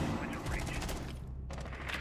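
Rapid gunfire rattles in bursts during a competitive Rainbow Six Siege match, sharp cracks piling over each other, with a commentator's voice running beneath.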